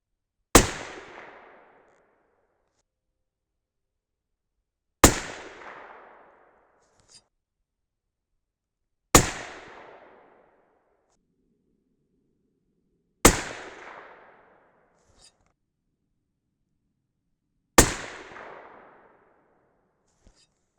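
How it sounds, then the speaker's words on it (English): Five loud, sharp rifle shots from a 6.5 Creedmoor firing hot H4350 handloads with 143gr ELD-X bullets ring out outdoors, evenly spaced about four seconds apart. Each crack is followed by a short decaying echo and then silence. "at this point, I decided to go ahead and shoot it."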